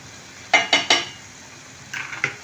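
Cooked sprouted moong going into a pan of masala: three loud spoon taps against the pan in quick succession, a pause, then a few softer scrapes and clinks, close up.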